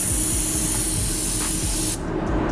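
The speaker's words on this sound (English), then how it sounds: "And now for sealer, I'm gonna spray" A spray gun spraying P30 sealer onto a new car panel hisses loudly and steadily in pulsing bursts up close, then cuts off abruptly near the end, leaving quieter background noise.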